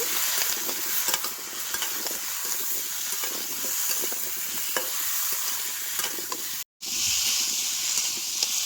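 Pumpkin stir-fried with turmeric sizzles steadily in a hot pan, a dense, continuous frying hiss with scattered scraping and stirring knocks, briefly cutting out near the end before resuming.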